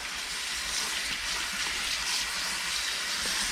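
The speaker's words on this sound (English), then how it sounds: "I'm just gonna give this a quick rinse" Romaine lettuce rinsed under a running kitchen tap, a steady, close hiss of flowing water with no pauses, with no speech.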